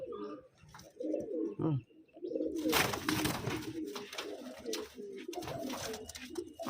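Andra pigeons coo in a soft, repeated series of close, throaty calls. The calls come in rising and falling bursts, with a few brief chirps among them.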